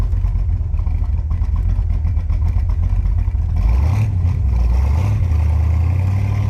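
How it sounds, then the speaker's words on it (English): A 1966 Corvette with a 327 V8 rumbles loudly and steadily up close, with a swelling rev near the middle before settling back into a heavy idle. "All right, here we are in the 66 Corvette. Let's fire it up and go for a ride."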